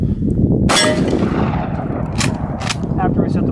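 Shotgun slugs fired outdoors at a homemade armor plate: a loud sharp blast followed by a metallic clang, then further quieter impact bursts over steady wind-like background noise.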